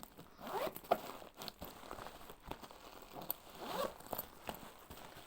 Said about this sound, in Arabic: بصوا هنا في سوسته كده